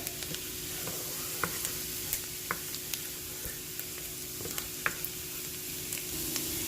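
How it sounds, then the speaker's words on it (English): Onions and celery sizzle in butter in a pan with a steady, even hiss. Small pops and light crackles come at irregular moments, and there is no talk. "you just want to kind of cook this until your onions and your celery get al dente"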